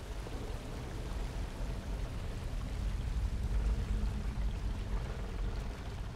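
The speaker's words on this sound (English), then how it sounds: "It was just a water wheel." A water wheel in the fantasy game Enderal churns steadily, a continuous low rushing and splashing of flowing water with no pauses, fairly quiet and alone.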